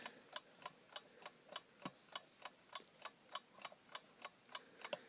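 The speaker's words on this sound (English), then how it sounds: "Very traditional kind of tick, tick, tick sound." A West Clox silver bell wind-up alarm clock ticks steadily and quietly, even clicks at a slow regular pace, with no other sound around it.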